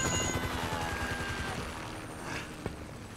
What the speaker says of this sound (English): Can you hear that? Chopper! Incoming!